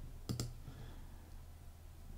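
A computer mouse gives two quick, sharp clicks close together, heard close up and fairly quiet, followed by a faint room hush.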